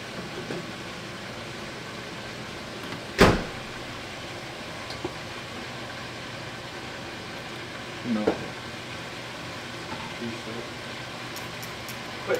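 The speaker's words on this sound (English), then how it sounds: "We have the chicken frying." Steady hiss and crackle of chicken wings frying in oil, continuous and close, with a sharp clatter early on and a few faint knocks.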